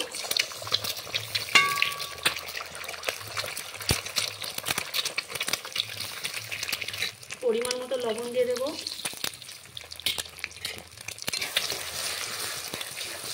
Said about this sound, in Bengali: 3টে ডিমই একসাথে ভেজে নেব।